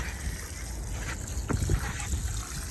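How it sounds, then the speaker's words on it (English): Water poured onto mulch-topped potted blueberry bushes, a soft running trickle and splash that swells midway, close and steady. "I'm going to water, give it a good watering."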